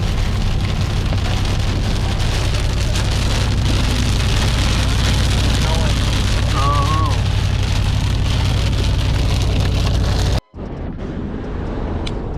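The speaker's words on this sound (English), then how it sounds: "rain hit us." Rain in Tyler, Texas, pelting a vehicle roof and windshield as a dense, steady hiss and patter, loud and unbroken until it cuts off abruptly near the end, with brief talk under the noise.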